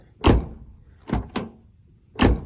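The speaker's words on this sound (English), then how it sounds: "listen to the door, how it sounds" Four quick thuds of a 3rd generation Toyota RAV4 car door being shut and opened, sharp close impacts spaced unevenly in an otherwise quiet setting.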